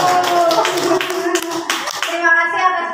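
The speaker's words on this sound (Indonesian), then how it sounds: "Oke, tepuk tangan Bapak Ibu." An audience at a school positive-culture dissemination session bursts into applause, a dense patter of many hands clapping, with children's voices and chatter mixed in and the clapping fading toward the end.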